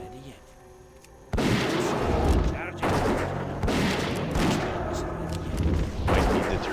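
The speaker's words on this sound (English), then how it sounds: "Those gunshots were a little louder than I was expecting." Loud bursts of gunfire in World of WoW Classic, a game set in Westfall, come in several heavy volleys over a constant low din, each blast close and booming.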